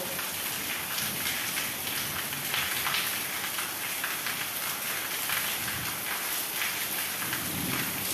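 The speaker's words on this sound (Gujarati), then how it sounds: "વરસાદ ચાલુ થઈ ગયો ફાસ્ટ એ પહેલાં કડકડીને આવી ગયો" Steady, dense rain pours down in a constant hiss during a thunderstorm, with no talking; a low thunder rumble may sit beneath the downpour.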